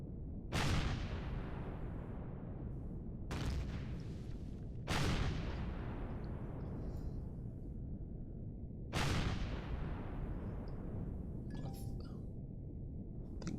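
Heavyweight cannon fire from a defense emplacement in the space survival game Empyrion Galactic Survival: four loud, booming blasts spaced a few seconds apart, each trailing off in a long rolling decay.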